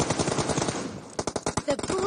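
Rapid automatic gunfire from a team deathmatch shooter video game, a dense burst of shots followed by sharper separate cracks, with a voice talking over it.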